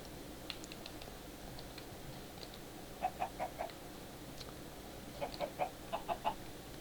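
Chickens cluck softly in the video game Demon Skies, two quick bursts of four or five clipped calls each, faint over a low steady game hum.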